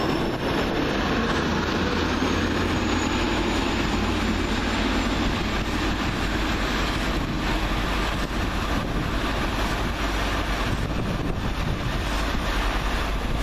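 Class 144 diesel train number 144016 departs, heard as a steady, continuous rumble under heavy wind buffeting on the microphone, without any talk.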